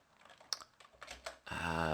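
Computer keyboard typing while entering a terminal command in a hacking tutorial, a run of separate key clicks with a denser, louder burst at the end, close and with no talk.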